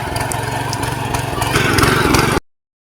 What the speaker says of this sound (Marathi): विवेकने ट्रॅक्टर चालवायला सुरुवात केलेली आहे